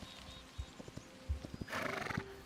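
A horse in the Hytale video game gives a loud, shaky whinny near the end, preceded by scattered clip-clop hoof steps and soft thuds, no speech.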